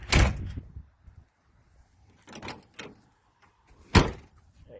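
A car door on a 1974 Chevrolet Camaro Z28 with 32,164 original miles opens and closes close up: a heavy latch clunk, a couple of softer clicks, then a firm solid slam, with quiet gaps between.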